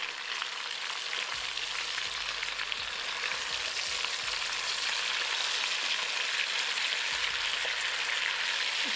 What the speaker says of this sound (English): I'm gonna allow these pieces of beef to sear for 4 minutes without moving anything.